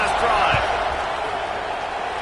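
A college football stadium crowd roars after an extra point in NCAA 2026, a loud dense continuous cheer with a brief thump near the start, while a commentator talks over it.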